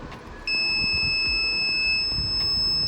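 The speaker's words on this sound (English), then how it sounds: "you can see the buzzer is blowing since the temperature measured is 35 degrees Celsius" A temperature monitor for wheat germination sets off its buzzer, a sharp steady high-pitched electronic tone that starts abruptly and holds continuously over faint background noise, with no talk.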